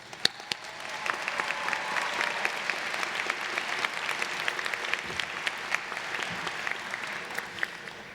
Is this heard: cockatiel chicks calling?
no